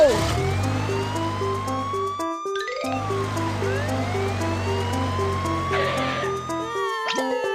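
A cartoon fire engine siren wails in a steady rising and falling tone across the clip, loud and close, with music and short sound effects mixed underneath and a brief gap partway through.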